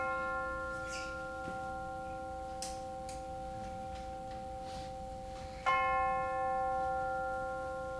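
A single bell struck once at a worship service, its clear ringing tone sustaining and slowly fading over a quiet, faintly humming room.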